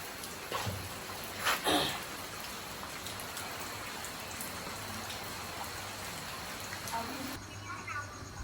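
Rain falling outdoors as a soft, continuous hiss with occasional louder patters, while people talk over it at moderate distance.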